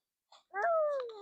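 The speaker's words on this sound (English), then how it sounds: "So if you hear a loud meow, it's either Harvey or it is the cat." A farm cat gives a single clear meow, rising then falling in a short drawn-out call, close and alone after a brief quiet chirp.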